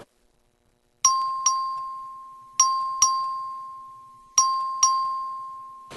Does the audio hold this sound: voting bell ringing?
yes